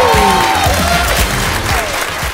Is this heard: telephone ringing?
no